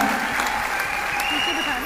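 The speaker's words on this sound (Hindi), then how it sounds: "डॉक्टर नरेश और डॉक्टर विक्रांत, तालियां तो इनके लिए होनी चाहिए" Audience applause at an award ceremony held in Talkatora Stadium, a steady wash of clapping from a large crowd lasting the whole moment at an even level, with no voice over it.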